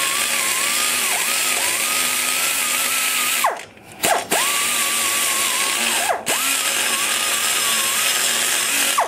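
A big cutter in a power die grinder whines as it grinds bulk aluminum out of an intake port on a big-block Chevy intake guide job, a loud steady high tone that dips and briefly cuts out twice.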